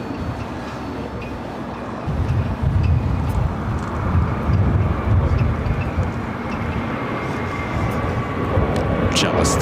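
An Airbus A320neo-family jet departing Los Angeles for Boston gives a steady, broad engine roar that swells after a couple of seconds and holds at moderate distance, with people talking quietly underneath.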